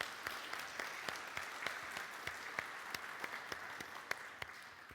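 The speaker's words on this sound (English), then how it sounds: "So maybe we can do a big round of applause for actually getting all of us here to this event." An audience at a summit event claps in a continuous round of applause, steady and somewhat distant, with no talk over it.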